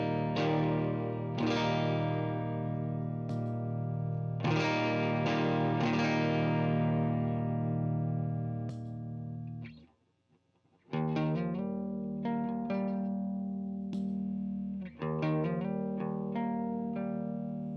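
Electric guitar run through a Custom Comp compressor pedal, switched on and off for comparison: ringing chords and single notes with long sustain, a brief gap, then a second pass of picked notes and chords.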